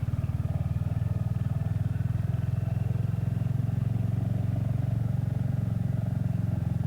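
A motorcycle rides along narrow country lanes in summer, its engine giving a steady, close, throbbing drone that continues without a break while wind noise rushes past the microphone, with no talking.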